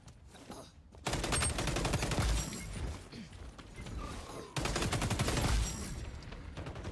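Gunfire in the shooter game XDefiant, with loud bursts of rapid automatic fire stopping and restarting over several seconds, plus clattering impacts.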